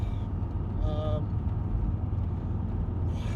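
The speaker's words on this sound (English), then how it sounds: "Right, so I'm just taking this out on a test drive." A VW T4 2.5 TDI van out on a test drive with a new aftermarket air filter, its engine and road noise a steady low rumble throughout, with a voice talking over it.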